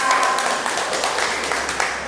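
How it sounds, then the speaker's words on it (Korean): An audience applauds to welcome a lecturer at a talk on royal tombs, giving a short, moderately loud burst of clapping with broadband taps. "뜨거운 박수로."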